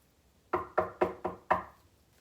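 Five sharp knocks on a door in an even, quick rhythm, close and clear, with near silence around them.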